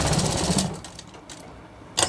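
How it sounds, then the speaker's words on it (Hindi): A sewing machine stitches the side seams of a shirt, a short close rattling burst that stops, a quiet pause with faint clicks, then a brief final whir. "दोनों साइड ऐसे ही सिलाई लगानी है।"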